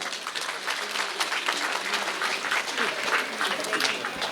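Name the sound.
audience applause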